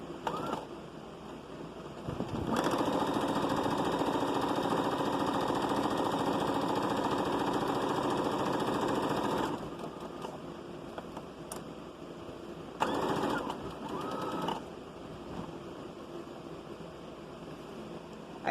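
A sewing machine stitching children's overalls whirs in a steady hum for about seven seconds, then stops, followed by a couple of short bursts of stitching, close by and fairly quiet.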